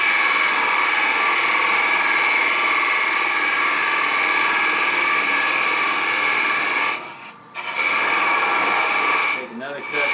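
A lathe spins steadily while a turning tool cuts a tenon in wood for a mushroom, a continuous loud whirring hum with scraping texture, briefly dropping out twice near the end.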